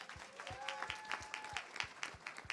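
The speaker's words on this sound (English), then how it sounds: "give her a round of applause, yep." Faint, sparse clapping for a speaker at a live State of the People Power Tour event in Detroit. The claps come in a loose, fairly regular rhythm and sound distant and thin rather than like a full crowd.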